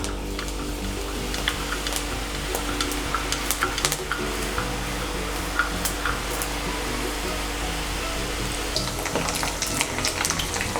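Garlic sev dough fries in hot oil as a crisp Diwali snack, giving a steady, even sizzle with scattered small crackles throughout and no voices.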